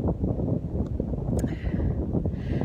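Steady wind blowing outdoors near a sandy beach, a continuous broadband rush buffeting the microphone with faint rustling gusts throughout.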